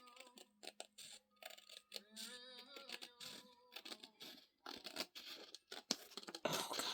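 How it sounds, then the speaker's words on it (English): Scissors snip and slide through paper while a tall bird journal is made, giving faint, close, irregular cuts and rustles with quiet pauses, and music is heard faintly underneath. "I can cut it with my scissors, and I can just leave a hair"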